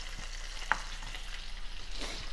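Skewerless kabobs cook in a pan, giving a soft, steady sizzle and faint crackle that stays quiet and continuous, with one small pop.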